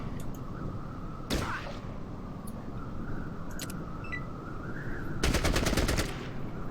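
Gunfire from Fallout Tactics: a sharp single shot early, a couple of fainter cracks, then a rapid burst of automatic fire near the end over a steady background hum.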